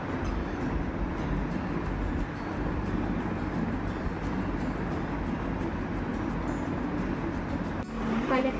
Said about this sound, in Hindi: बीच में एक हवा की आवाज़ आ रही होगी, मतलब कि कूलर की हवा की आवाज़ है